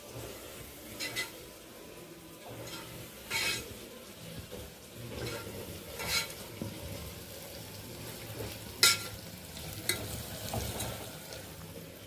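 Masala sizzles softly in a pan for mutton keema curry, with intermittent scraping stirs and small utensil clinks over a steady frying hiss.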